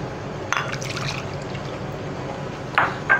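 Water poured into ground coconut paste for a tomato kurma, heard as two short splashy pours, one near the start and a briefer one near the end, over a low steady background.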